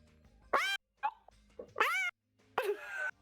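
A cat meows several times after waking, close and fairly loud: three drawn-out rising-and-falling cries with a couple of shorter chirps between them.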